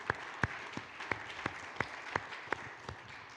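A church congregation claps in praise, with a slow, sparse run of individual claps, roughly three per second, evenly spaced over a soft room background.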